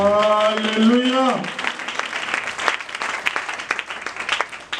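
A church congregation breaks into applause, a dense wash of clapping that starts right after a voice trails off and carries on loud and steady to the end, with faint voices mixed in.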